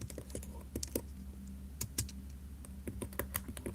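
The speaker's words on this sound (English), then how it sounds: "I'm also trying to make it so that you can't hear me typing" Light, irregular keystrokes tap on a computer keyboard, soft and close with small pauses between bursts, and no voices over them.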